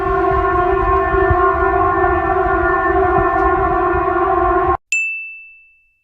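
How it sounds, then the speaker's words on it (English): A Serbian EAS emergency warning siren drones in a loud, steady multi-tone wail. It cuts off abruptly and is followed by a single clear ding that rings out and fades. "I don't know if this EAS alarm was real or fake."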